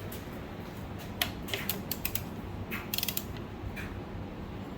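A torque wrench set to 17 foot-pounds tightens valve cover bolts on a Mercedes M119 engine, giving faint, scattered metallic clicks and ratcheting ticks close by over a low background hiss.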